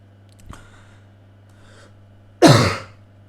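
A single harsh cough and throat clearing bursts out close and loud after a faint earlier rasp, then fades quickly into quiet.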